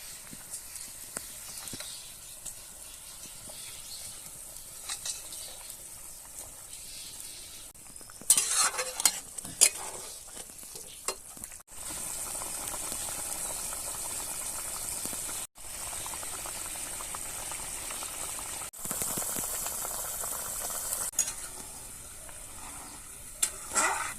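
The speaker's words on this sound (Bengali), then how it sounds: "আর ঝোলটা ফুটে গেছে, এখন মাছটা দিয়ে দেবো।" Tilapia fish pieces simmer in a bubbling mustard-paste gravy, a steady close sizzle and boil with occasional louder stirring scrapes and clatters as pieces go into the pot.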